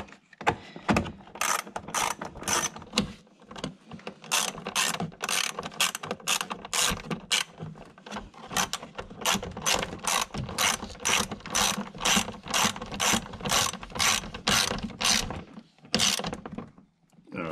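Hand ratchet snugging the spoiler mounting bolts on a C7 Corvette during a Stage 3 spoiler install, giving long runs of crisp, evenly paced clicks in repeated bursts, close and clear, with no talk.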